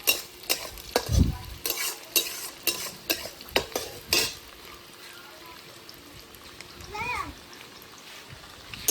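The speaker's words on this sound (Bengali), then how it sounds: "পেঁয়াজগুলো লাল লাল করে বেশ ভালো করে ভেজে নিতে হবে।" Onions frying in hot oil in a pan with split green chillies for a chital fish curry, a soft sizzle broken by repeated sharp clinks and scrapes of stirring.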